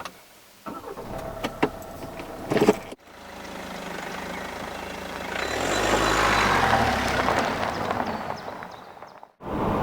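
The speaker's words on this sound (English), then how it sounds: "let's go for a drive in the Kia Optima" A 2014 Kia Optima midsize sedan out on a drive: steady engine and road noise from inside the cabin, with a rise as it accelerates midway and a couple of brief mechanical clicks early on.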